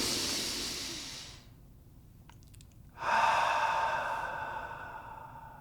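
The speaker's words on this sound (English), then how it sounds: "I take a deep breath into my nose" A slow, deep breath drawn in through the nose during a calming exercise: a long, soft airy hiss, then a short quiet gap, then a louder, sustained rushing inhale, close and alone.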